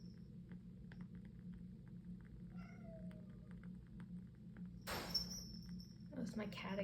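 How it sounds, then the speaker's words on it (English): A pet cat meows faintly a few times in a quiet room over a low steady hum, followed by a louder rustling burst near the end. "That was my cat again."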